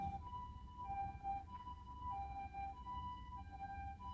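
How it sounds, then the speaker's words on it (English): An ambulance siren wails in a two-tone alternating pattern on a road in Okinawa, faint and distant, over a low rumble of passing traffic. "there's an ambulance coming"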